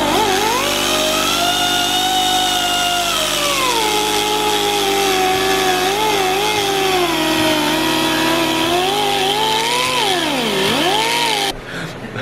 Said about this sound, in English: we went and picked up a bit for the die grinder to cut through the sleeves